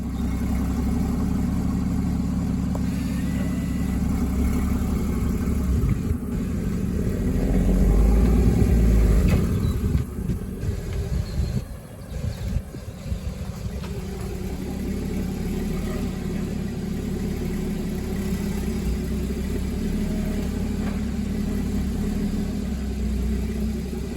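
Porsche Boxster GTS engine running as the car is driven onto a workshop ramp, a steady mid-pitched hum that swells briefly, dips, then settles back to a constant idle-like drone without talk.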